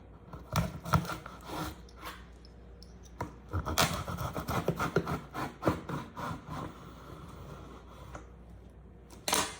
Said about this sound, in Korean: 일단 아, 뜯어볼게요.